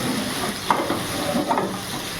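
Onion, bitter gourd and potato frying together in a pan, a steady close sizzle with soft stirring scrapes and a couple of brief clinks, no voices.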